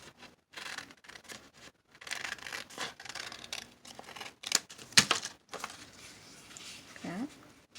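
Scissors snip through folded paper while a Valentine's card is being made, giving close, crisp cutting and crinkling sounds in short uneven bursts with a few sharp clicks, and some faint speech mixed in.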